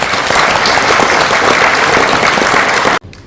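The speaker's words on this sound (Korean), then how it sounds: "우리 협력업체 관계자분들한테도 박수 한번 부탁드리겠습니다" Audience at a 40th anniversary ceremony applauds partner-company staff with steady, dense clapping that fills the room, then cuts off abruptly near the end.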